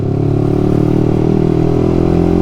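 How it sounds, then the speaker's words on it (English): A Yamaha YZF-R125 with a loud aftermarket-style exhaust runs at steady revs, a close, harsh, buzzing engine drone with rattly texture throughout. "It's not my fault they make exhaust this loud."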